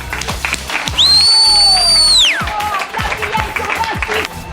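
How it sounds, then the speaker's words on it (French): Festival crowd at a RunColorz colour-run race cheering for a finisher, with a loud whistle swooping up and holding across the middle, scattered claps and taps throughout, and noisy outdoor background. "on peut applaudir Noah"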